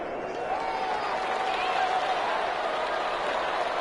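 Stadium crowd in a football video game cheering with a steady, dense roar of voices that holds at a constant level throughout, like a distant wash of noise filling the whole stretch.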